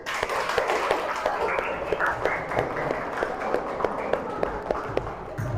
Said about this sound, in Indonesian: Pak kasih aplaus Mas Dimas